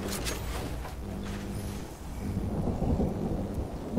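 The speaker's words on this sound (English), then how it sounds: "Oh, I nearly got into the storm." Storm thunder in the video game Fortnite, a continuous low rumble with rain-like hiss that swells slightly toward the end, loud and steady without speech.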